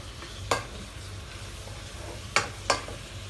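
Shrimp frying in garlic butter for a Cajun seafood dish, a low steady sizzle under a few sharp scraping stirs of the pan, with no talk.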